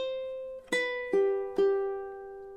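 A ukulele plays one measure of Jimmy Buffett's "Margaritaville", a held note followed by three plucked notes at even intervals, each ringing and fading, played alone and close.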